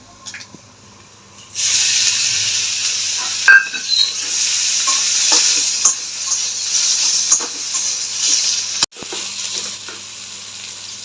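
Boiled pointed gourd pieces dropped into hot oil with black cumin, a sudden loud sizzle that rises at once and crackles on, with stirring scrapes and a knock.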